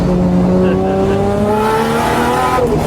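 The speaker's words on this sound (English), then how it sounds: "I'm giving it like 10 mil of throttle" A 1989 Nissan Silvia S13 street-legal drift car revs under light throttle, its engine tone climbing steadily and loud up close, with voices present alongside.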